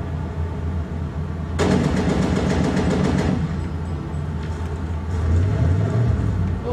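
A car driven in a PC video game, viewed from inside the cockpit, with a steady engine drone that swells to a brighter, busier roar for a couple of seconds and then settles back to a lower rumble.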